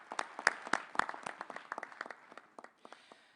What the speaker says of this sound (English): Let's give ourselves a round of applause for the wonderful day we have spent.